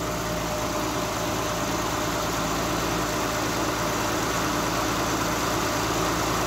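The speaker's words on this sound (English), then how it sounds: "I just want you to be able to hear the engine run before it shuts itself off" 2017 Chrysler Pacifica Hybrid with a 3.6 liter engine idling, a steady close rumble with an even hum and constant vibration, unbroken throughout and with no voices.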